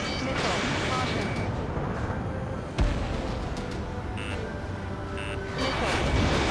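Missiles fire in Ace Combat 7 jet combat, a dense, loud roar of engine and launch noise with a sharp thump partway through, accompanied by short electronic warning beeps.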